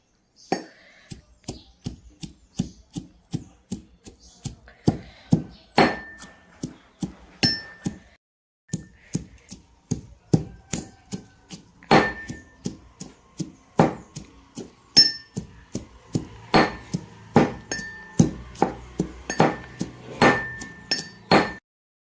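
Cooked misal spices pounded by hand in a metal pot, a long steady series of sharp ringing metallic strikes, close and loud, with a brief pause partway through.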